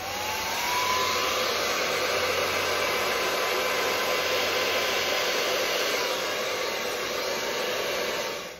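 A blower pushes acrylic paint across a Dutch pour, making a loud, steady whooshing roar that runs unbroken from start to finish with no talking.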